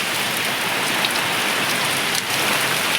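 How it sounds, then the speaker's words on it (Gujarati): Heavy rain pours down during a windstorm, a loud, steady, unbroken hiss of water striking surfaces close by, with no voices. "વરસાદ ફૂલ ભૂકા કાઢે છે"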